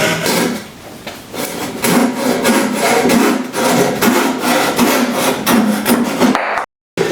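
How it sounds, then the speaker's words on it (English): A hand saw cuts a wooden tenon for a custom gate, lined up against the shoulder of a rabbet, giving a fast rhythmic series of close rasping strokes that stops abruptly near the end. "And then I line the saw up with the shoulder of the rabbit down here."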